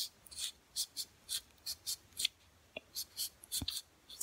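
A knife saws through a Monstera Albo stem during air layering, giving a run of short, close, scratchy rasping strokes in a quick, uneven rhythm, with a couple of soft snapping clicks near the end.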